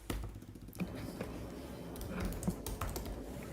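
Rapid typing on a computer keyboard while a new website is being set up, with steady clustered key clicks running throughout at close range and no talking.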